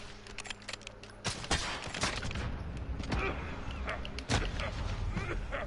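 A rifle shot in an online shooter, a sharp loud crack amid busy in-game gunfire, effects and chatter, with a second strong report near the end; a voice talks faintly underneath.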